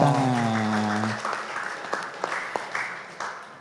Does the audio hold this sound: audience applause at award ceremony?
yes